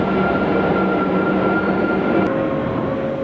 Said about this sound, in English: moving on through the locks assisted and towed by the locomotives